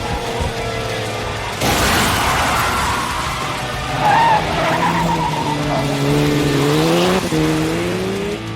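Nissan GT-R RB26 engine in an animated street race, revving hard through rising gear pulls with tire squeal and skidding, loud and close, the engine climbing in pitch several times over about eight seconds.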